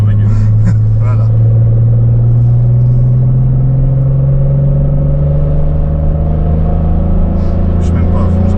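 Citroën Xantia Activa V6 engine lapping the Nordschleife, a steady loud drone with rising pitch under acceleration, heard from inside the cabin while people talk over it.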